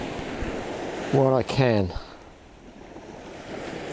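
Waves breaking on a winter beach make a steady, rushing surf roar that runs throughout, with a man's brief spoken phrase cutting in near the middle.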